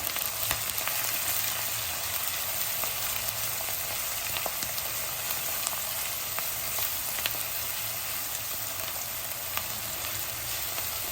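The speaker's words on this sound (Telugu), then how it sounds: "ఉల్లిపాయలు ఎర్రగా అయ్యే వరకు వేయించు" Onions fry in a pan until reddish, a continuous soft, even sizzle with faint occasional spatters and light stirring, steady throughout and with no voices.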